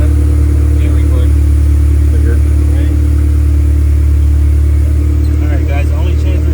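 A Honda K-series engine, a K20A or K24A swap, runs on a dyno with a loud, constant low drone and hum that fills the room, with voices faintly underneath.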